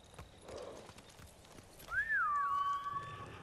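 Horse hooves clip-clopping in the samurai video game Ghost of Tsushima, soft and fairly faint steps, followed by a clear horse whinny partway through.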